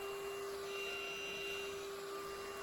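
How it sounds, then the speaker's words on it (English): A Prettycare cordless lightweight vacuum cleaner runs steadily with a constant motor whine and hum, quiet and unbroken throughout, with no talking. "this vacuum will go ahead and pick it up"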